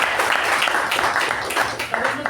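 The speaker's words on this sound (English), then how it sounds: "Project 2 with a huge round of applause." A room full of Toastmasters club members gives a round of applause, with a dense, steady wash of clapping running the whole time at moderate loudness.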